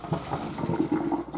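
Water from boiled potatoes pouring out as they are drained, a short, steady gushing splash.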